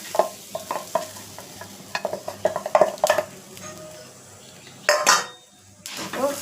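Grated coconut frying with spices in a pan, a utensil stirring and scraping in bursts, with light sizzling and a few louder metallic clinks near the end.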